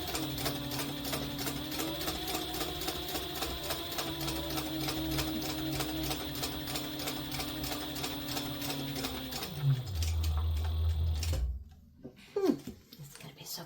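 A sewing machine top-stitches a wallet in a fast, steady, close mechanical chatter for about ten seconds, then stops, followed by a few handling knocks and rustles.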